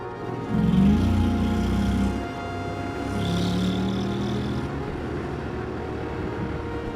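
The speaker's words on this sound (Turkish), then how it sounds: "Motor sesi gerçekten kulağa çok hoş geliyor." A Honda Forza 750 scooter engine drones steadily with a rumbling low hum that swells, eases off, then revs up again, running continuously without any talk.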